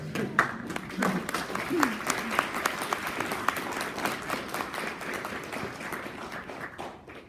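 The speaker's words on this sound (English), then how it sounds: "I need to applaud you first. Let me applaud you." Audience applause at a university lecture at Humboldt State, steady clapping across the room with some voices mixed in, tapering off near the end.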